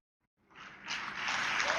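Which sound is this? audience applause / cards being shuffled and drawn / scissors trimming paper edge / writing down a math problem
audience applause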